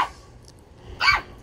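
Wet puppies after a bath give a couple of short, sharp barks, one faint yip early and a louder bark near the end, close by with no talk.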